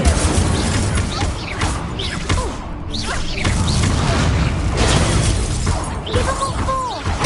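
The Incendio fire spell cast in Hogwarts Legacy brings whooshing blasts, booms and crashing impacts in a loud, dense stretch of combat effects with no gaps.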